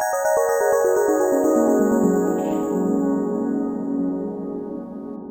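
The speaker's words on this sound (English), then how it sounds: "In Serum it sounds something like this." Ambient delay pluck synth made in Serum, a rapid run of bright plucked notes stepping downward and trailing into a washy echoing tail, loud and unaccompanied.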